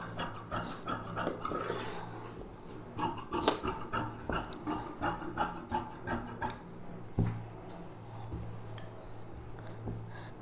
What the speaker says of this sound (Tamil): இந்த ஆம்ஹோல் ஷேப்புக்கு அப்படியே நம்ம கட் பண்ணிக்கலாம்.